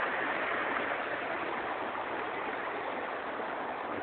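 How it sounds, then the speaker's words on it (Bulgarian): The Vladayska river runs as a stream in two channels, one of them beneath a stone river of boulders. The water makes a steady, dense rush that stays at an even level the whole time, with no voices. "Ето я Владайската река"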